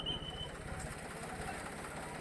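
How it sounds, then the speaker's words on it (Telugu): A boat engine drones in a steady low chug on floodwater, with a faint voice or two mixed in beneath it. "ఇంకో పడవ ఇప్పుడు వచ్చింది"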